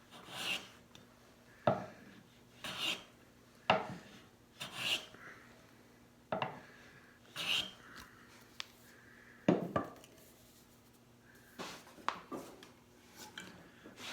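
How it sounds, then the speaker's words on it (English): A smoothing plane taking repeated strokes along a wooden sideboard leg, shaping its taper by hand: about ten short rasping shaves in an uneven rhythm, close by, with quiet pauses between passes. "I'm going to just come back with a smoother."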